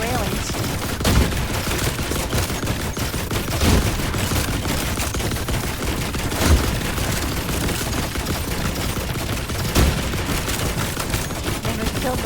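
Turret gunfire in The Last Caretaker rattles in steady rapid bursts for several seconds, with heavier thumps recurring every few seconds. The firing is loud and continuous, with faint voices mixed in.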